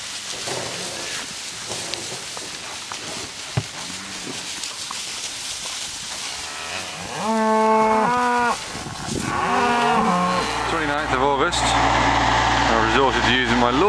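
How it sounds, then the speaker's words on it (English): Several cows being called in to feed moo loudly and repeatedly, some close and some farther off, after a stretch of engine noise and rustling. "I just called the cows in to get some more grub."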